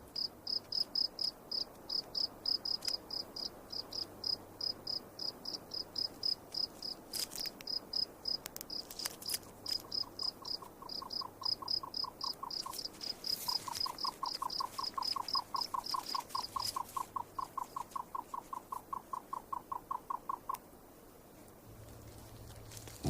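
A cricket in the Russian desert chirps in a fast, steady, regular pulse that runs on and on, with a second, lower-pitched chirping series joining partway through, all against a faint, quiet background.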